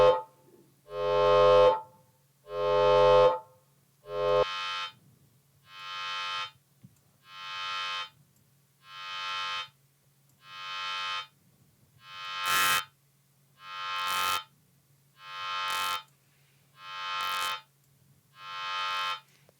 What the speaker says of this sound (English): We're going to add a sine wave in the middle of this wave shaper.